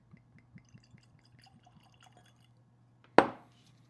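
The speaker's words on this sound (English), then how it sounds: "let's pour us up" Barrel-proof bourbon, a limited release from Traverse City, poured into a glass: a single close, sharp splash and brief gurgle near the end, preceded by faint quiet handling sounds.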